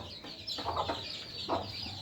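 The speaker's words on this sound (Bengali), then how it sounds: "আমরা মোট বারোটা মুরগি কুচে বসাইছে এখনও ছয়টা মুরগি ডিম ফুটে বাইরে হইতে বাকি আছে" Brooding hens with newly hatched chicks cluck softly nearby, a few short rounded calls in quick succession over a low steady background hum.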